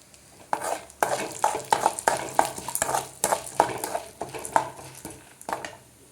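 Onion, tomato and green chilli sautéing in a pan, with brisk rhythmic spatula stirs scraping the metal over a bright sizzle, a dense run of close, loud strokes and no speech.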